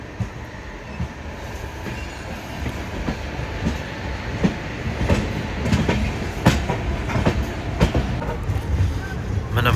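The Godavari Express, train 12728, pulls into Visakhapatnam station with a steady rumble and clatter of wheels over rail joints, with scattered sharp clanks and squeals. The train is near and stays loud throughout, with some voices faintly in the background.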